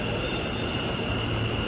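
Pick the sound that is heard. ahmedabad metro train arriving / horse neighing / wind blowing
ahmedabad metro train arriving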